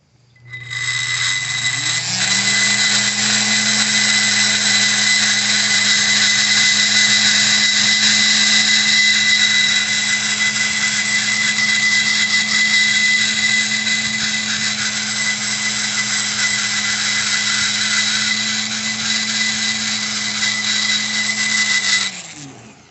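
A high-speed rotary power tool grinding and polishing the ports of a Mazda AZ-1 F6A DOHC turbo cylinder head, spinning up to a loud steady whine held for about twenty seconds before spinning down, close and without talking.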